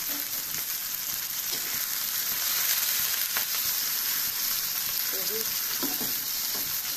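Radish greens and potato frying hard over a high flame with chili and salt, a dense continuous sizzle with occasional stirring scrapes, close and steady throughout.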